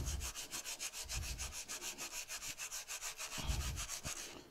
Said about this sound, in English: when you're sanding these square faces, you want to use a platen